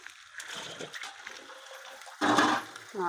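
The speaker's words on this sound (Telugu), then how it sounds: "మేము వాటర్ అయితే పోస్తున్నా" Water poured into a pot of goat mutton curry: a quieter rustle and splash, then a loud gushing pour partway through, with a brief ringing clink at the end.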